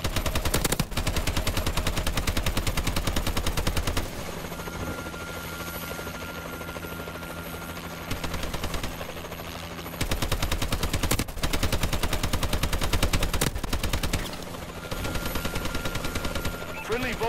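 Heavy Vulcan cannon fire from a Warbird gunship in Call of Duty Advanced Warfare: long sustained buzzing bursts separated by short pauses, loud and close, layered over rotor-like droning and distant battle noise.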